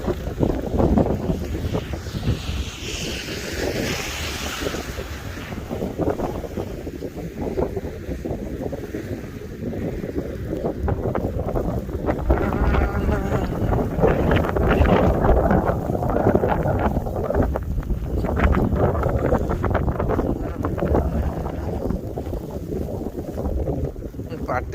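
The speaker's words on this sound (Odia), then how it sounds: "ସ୍ନୋ ବ୍ଲୋ କରିଦେଲାଣି ଏତେ ଜୋରରେ ସ୍ନୋ ବ୍ଲୋ କରୁଛି" Strong wind roars steadily through a snowstorm in New Jersey, a dense, continuous rush with buffeting on the microphone, while a person talks over it at times.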